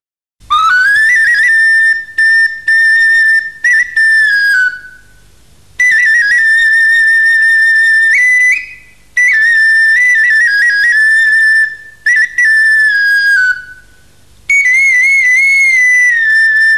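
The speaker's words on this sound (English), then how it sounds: "Tulek or whistle flute." A tulek, the Azerbaijani whistle flute, plays a bright, steady melody in four sustained phrases separated by short pauses, loud and close with no voices.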